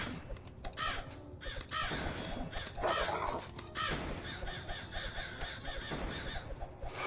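Crows caw repeatedly in the video game Kingdom Rush Vengeance over dense game music and effects. The calls are moderately loud against the busy mix.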